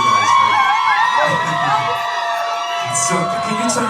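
A crowd at a music listening party in Lagos screams, whoops and cheers loudly in shifting waves, with shouted voices rising above the din.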